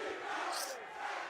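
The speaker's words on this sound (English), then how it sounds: "the crowd getting involved now." A crowd at a Valorant esports match, VCT Madrid, lets out a brief, fairly faint roar of cheering that swells and fades within a moment.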